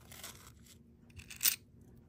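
Seven coins dropped one by one into a bowl of salt, each landing as a faint, quiet crunching clink, with the sharpest impact near the end of the short stretch.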